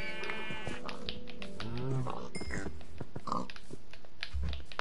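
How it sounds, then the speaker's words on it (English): A Minecraft cow lets out a few short lowing moos amid busy game sounds and other animal noises, close and moderately loud, with no one talking. "Just a cow."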